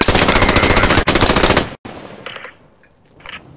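Rapid machine-gun fire rattles in dense automatic bursts during Post Scriptum gameplay, loud and close for over a second, then cuts off to fainter distant shots and scattered reports.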